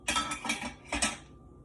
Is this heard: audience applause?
no